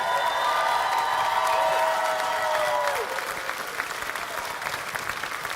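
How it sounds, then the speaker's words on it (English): An audience at an event bursts into a dense round of applause, loud and sustained at first, then thinning into scattered claps toward the end. "give a big, big round of applause"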